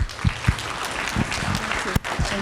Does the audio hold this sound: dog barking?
no